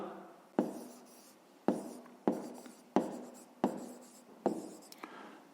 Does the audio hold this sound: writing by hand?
yes